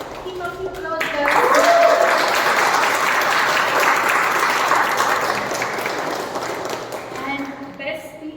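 A voice speaks, then applause rises from the room at a Toastmasters award during an Onam meeting, a full, even clapping that holds for several seconds before tapering as talking resumes.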